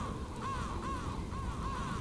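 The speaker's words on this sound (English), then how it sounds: "There's crows everywhere." Crows caw repeatedly in Horror Hospital, a VR horror video game, with four evenly spaced calls over a steady ambient hum.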